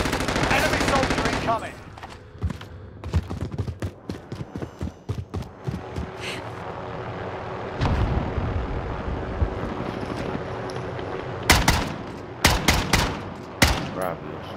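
Video game gunfire rattles out in rapid bursts and single cracks, some close and loud, others scattered and quieter, with gaps between volleys and game sounds underneath.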